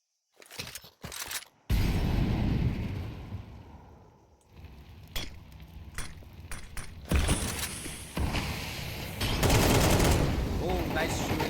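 Counter-Strike gunfire in a professional esports match, sharp bursts of rapid automatic fire and single shots that come and go, mixed with in-game effects and a commentator talking over the action.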